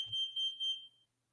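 A smoke alarm beeps in three sharp, shrill pulses, a steady piercing tone that rings out loud and close before cutting off into near silence.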